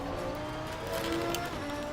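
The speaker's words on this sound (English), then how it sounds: "Slight brake lock." Racing car in the video game Assetto Corsa Competizione, a Reiter R-EX Gallardo at Suzuka, with a steady engine drone and a brief brake-lock tyre squeal mixed in, loud and continuous with no talk.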